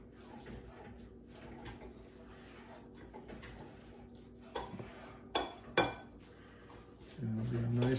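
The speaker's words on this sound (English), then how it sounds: "Mix it all up." Hummus and pico de gallo are mixed in a bowl, with soft scraping and a few sharp clinks of a utensil against the dish, fairly quiet, ending in a louder rumble.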